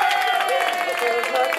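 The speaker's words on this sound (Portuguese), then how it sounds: "Uma salva de palmas!" Guests at a Brazilian 18th birthday party in Santo André clap and cheer in a short burst, with voices and whoops mixed into the applause throughout.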